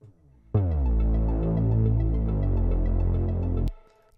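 A synth arpeggio over a deep, rich Reese bass in a slap house track, layered repeating notes on top, starting abruptly and cutting off after about three seconds.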